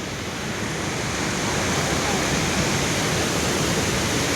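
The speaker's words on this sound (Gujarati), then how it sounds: "આજે અમારી નદીમાં ખૂબ જ વધારે પાણી આવેલું છે" Loud, steady roar of the flooded Shetrunji River rushing in full flow, broad and unbroken, swelling slightly over its length.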